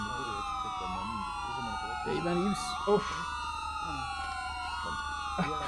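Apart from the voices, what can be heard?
police car sirens in a video game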